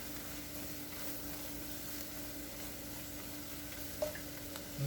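A flour roux browns in a pan for pork chop gravy with onions, giving a soft, steady sizzle and low hiss throughout, with one faint clink near the end.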